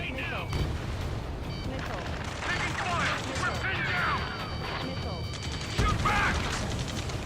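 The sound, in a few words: gunfire in Ace Combat 7 video game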